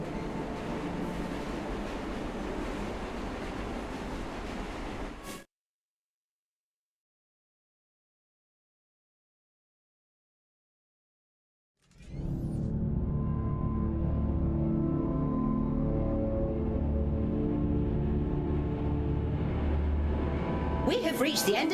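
A train rumbles in the sci-fi video game Luna Abyss, a steady low mechanical drone that cuts to near silence for several seconds and then resumes, loud and continuous.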